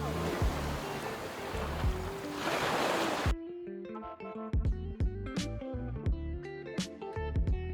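Waves wash onto a beach at Acadia National Park, heard as a surging roar that cuts off abruptly and gives way to scattered thumps and clicking, moderately loud and without talk.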